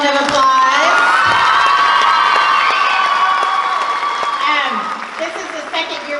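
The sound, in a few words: audience applause at school concert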